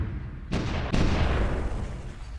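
Artillery bombardment in the grand strategy video game Supreme Ruler Ultimate, a dense, rumbling barrage of distant booms that swells in two sharp onsets and then rolls on continuously.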